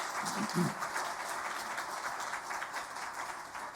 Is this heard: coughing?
no